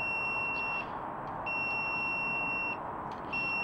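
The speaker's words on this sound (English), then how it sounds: "I'm using my voltage detector. I'll test all the wires, and this is your hot wire right here." A voltage detector held against the live black hot wire of a reverse-polarity receptacle gives a steady, high electronic beep. It repeats in long tones separated by short gaps over a faint background hiss.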